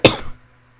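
A single sharp cough from someone with a week-long bad cough, loud and close, with a short throaty tail that fades out quickly.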